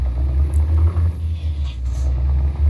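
A heavy truck engine with an aftermarket Kurt exhaust in Euro Truck Simulator 2 drones with a deep, steady, close rumble, loud and unbroken, with no speech.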